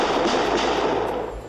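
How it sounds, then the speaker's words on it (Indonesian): Gunfire from Japanese soldiers shooting rifles into the air during a training drill on a deserted island in a film, a dense, continuous burst of loud cracks and rumble lasting throughout before easing slightly at the end. "tentara Jepang itu menembakkan senjata ke udara"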